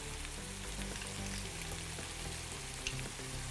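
Tomato paste sizzles and fries in a hot pan for a kachki fish curry with tomato and onion, making a steady, fairly loud crackle that holds evenly throughout with no talking.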